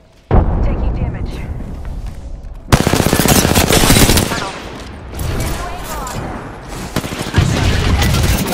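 Loud, rapid automatic gunfire in the battle royale game Apex Legends comes in several long sustained bursts separated by short pauses, close and dominant, with game voice lines heard among the shots.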